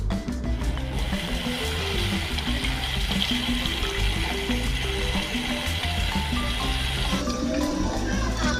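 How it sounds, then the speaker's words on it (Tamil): Dissolved tamarind water poured into a clay pot of fish curry, a continuous splashing, gurgling pour that runs steadily for several seconds before easing off near the end. "ஒரு 50 கிராம் புளி நல்லா கரைச்சி ஊற்றிக்கிடுவோம்"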